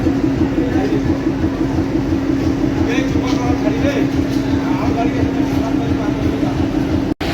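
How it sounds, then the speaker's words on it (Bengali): The 751 Up Lalmoni Express from Dhaka, bound for Lalmonirhat, entering line 1 at Natore railway station at midnight, a loud steady rumble and low drone of the approaching train filling the whole stretch. "ঢাকা থেকে ছেড়ে আসা লালমনিরহাটগামী 751 up Lalmoni express Natore rail স্টেশনের 1 নম্বর লাইন দিয়ে এই মুহূর্তে প্রবেশ করছে"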